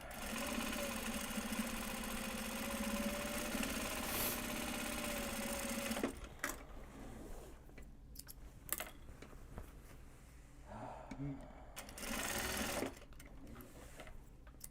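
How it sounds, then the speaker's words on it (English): A sewing machine backstitches the closing seam of a large box bag, running in a steady continuous whir for about six seconds, then short stops and starts with clicks and a brief final burst. "I'll backstitch the closing seam"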